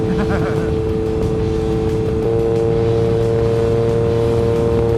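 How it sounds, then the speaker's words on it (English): A steady stream of cars passing at night, heard from a motorcycle on the road in cold, wet weather: a continuous loud roar of engine and wind with a constant drone and no clear gaps. "This constant steady stream of cars is why I wear a dark visor at night."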